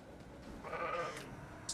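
A sheep in the video game RuneScape Dragonwilds gives a single faint, wavering bleat against quiet background ambience.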